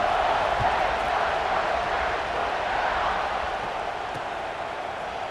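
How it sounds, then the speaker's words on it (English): A stadium crowd roars in a college football video game, Wisconsin at Ohio State, as a steady, moderately loud wash of cheering that holds through the kickoff without any distinct voices. "this crowd is feeling themselves after that last drive"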